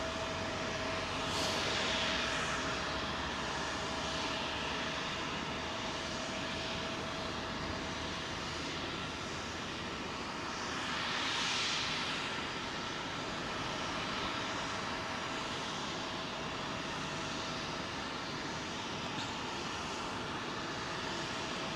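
At London Heathrow runway 27L, a distant airliner's engines drone in a steady, faint roar that swells gently twice as the aircraft passes, heard alone without any voices.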